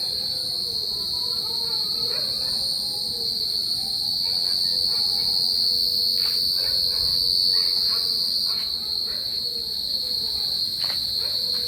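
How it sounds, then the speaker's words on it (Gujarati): Crickets chirp outdoors on a dark night, a dense, unbroken high-pitched trill with faint scattered clicks underneath, steady throughout. "આ તમરાનો અવાજ સાંભળો ધ્યાનથી"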